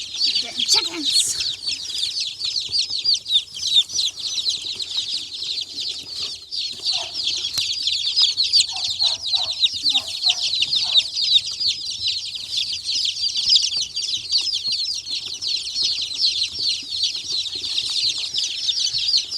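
Young chicks being brought home as a first flock fill the space with dense, continuous high peeping and cheeping, close and loud, with a few lower clucks and rustles underneath.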